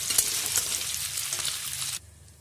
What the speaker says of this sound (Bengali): আলুগুলো আমার হালকা ভাজা হয়ে গেছে